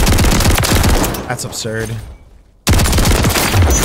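An automatic shotgun in a video game fires a rapid, loud, continuous burst, stops for a short silent gap, then opens up again. A voice speaks briefly during the lull.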